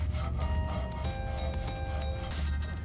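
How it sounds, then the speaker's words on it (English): A thick bristle wheel brush scrubs a foamy car rim coated in brake dust, using Chemical Guys foam wheel cleaner. The close, rhythmic swishing strokes repeat quickly and steadily, with no talking. "It's a nice thick bristle brush which will help me clean all the way to the back of the rim."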